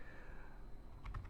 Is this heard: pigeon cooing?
no